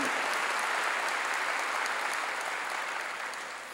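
A church congregation applauds during a sermon in a dense, sustained wash of clapping that stays strong and then begins to taper off toward the end.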